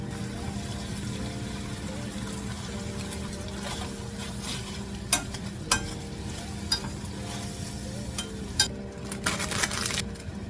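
Sauce for a meal-kit dish simmering in a pan while being stirred, with a low steady bubbling and sizzle broken by several sharp clinks and scrapes of a utensil against the pan.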